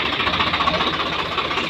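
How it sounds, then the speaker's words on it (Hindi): A 50HP Johendra tractor engine runs steadily at close range, a dense continuous knocking rumble with a fast rhythmic chatter throughout and no speech. "ट्रैक्टर आ गया है भाई"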